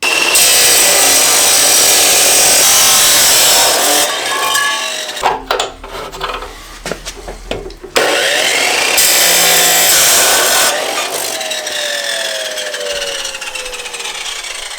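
Power tool cutting through a piece of aluminum for a 1JZ engine swap, a loud harsh continuous grinding that drops off briefly in the middle, then resumes as steadily as before.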